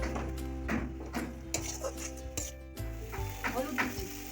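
Spice paste with Kashmiri chili powder sizzles in a pan for a potato and cauliflower curry after a splash of water, with a spoon stirring and scraping in uneven bursts over the frying hiss.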